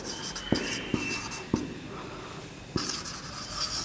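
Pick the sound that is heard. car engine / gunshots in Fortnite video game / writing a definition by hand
writing a definition by hand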